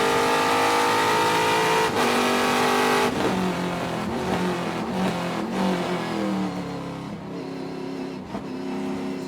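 Trans Am race cars racing at Sonoma, loud engines roaring and revving through gear changes as cars pass close by, with a brief hint of tire squeal and no talk.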